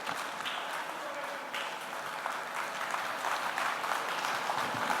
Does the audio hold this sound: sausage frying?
no